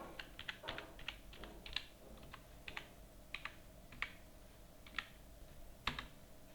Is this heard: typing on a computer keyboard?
yes